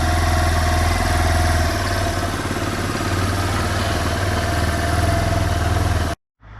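A Suzuki GZ 125 Marauder motorcycle engine with knocking in the engine runs loud and close, a steady throbbing idle with mechanical clatter, then stops abruptly near the end.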